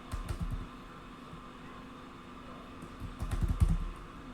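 Computer keyboard keys clatter in two short bursts of rapid typing, near and crisp, separated by a pause filled with a faint steady background hum.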